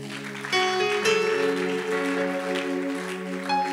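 A church congregation claps together, a sudden burst of applause that swells and then holds steady over sustained keyboard music.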